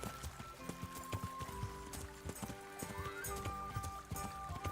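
Rhythmic horse hooves clop steadily over game music in Kingdom Come: Deliverance, with occasional neighing, close and fairly loud throughout.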